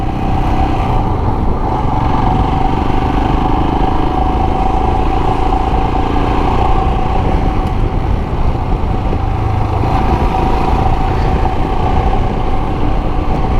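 Royal Enfield Himalayan motorcycle engine accelerating from 80 to 100 with a slight struggle, a loud, steady, close drone with wind rush throughout and no talk.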